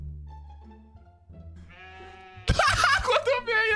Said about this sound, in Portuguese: Quanta ovelha!